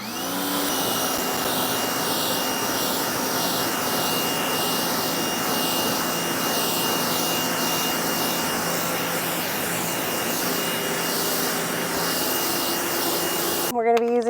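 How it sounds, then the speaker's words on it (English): An AR Blue pressure washer rinses a car, a steady loud hiss and whine of spray and pump running continuously, ending abruptly. "We'll be using the AR Blue pressure washer we got from Costco."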